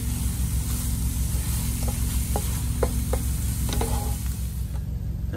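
Steak and eggs sizzle steadily in a frying pan inside a semi truck cab, a continuous close, even frying hiss with a few light clinks and scrapes of a utensil, and no talking.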